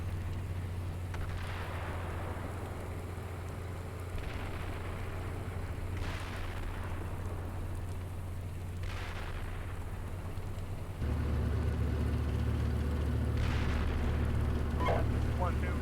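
In a war video game, explosions and incoming fire land repeatedly, with several heavy booms spaced a few seconds apart over a continuous low rumble that grows louder near the end.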